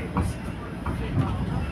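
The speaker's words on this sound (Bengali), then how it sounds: "আমরা স্ট্রিট কারে উঠেছি" Inside a moving Toronto streetcar, an electric tram on rails: a low rumbling ride with faint rattles and a soft clack, steady and close.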